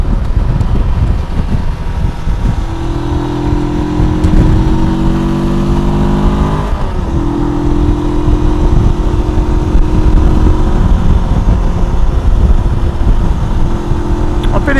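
A Rieju 500 Aventura motorcycle rides along a road in southern Spain, its engine a steady drone with shifting tones under heavy wind rush, close and continuous throughout.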